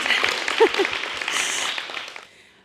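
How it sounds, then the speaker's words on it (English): A seated audience at an education panel gives a short round of applause, a brisk patter of claps with a few louder close ones, fading out before the end. "So can we just give her a little round of applause?"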